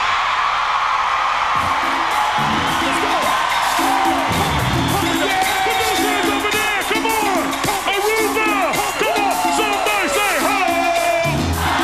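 A big crowd at a 70s soul music festival screams and cheers continuously, loud and dense, with whoops and yells rising over pulsing music while a voice shouts over the sound system.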